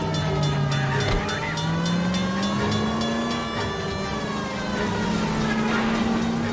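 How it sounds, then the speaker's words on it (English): A runaway streetcar in the video game L.A. Noire rolls on rails with a continuous loud rumbling and rising, whining tone, accompanied by a steady hum that runs throughout. "Suspect is in control of the streetcar and driving dangerously."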